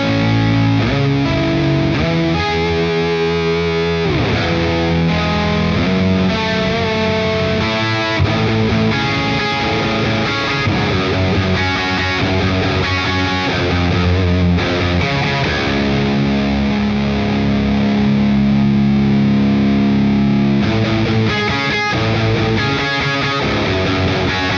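Electric guitar runs through a BOSS OC-5 octave pedal, stacking big, thick octave-doubled chords and melodic jumps with drive into a dense wall of sound, played alone and steadily loud throughout.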